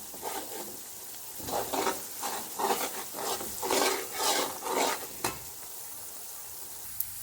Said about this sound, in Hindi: साथ साथ चम्मच चलाते रहिए। बिरयानी के प्याज तकरीबन कलर चेंज कर रहे हैं